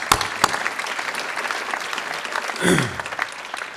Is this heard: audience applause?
yes